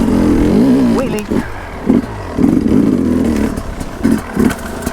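Enduro dirt bike on a winter trail ride, its engine revving in several short, throaty bursts during a wheelie, with a rider's voice talking over the close engine noise.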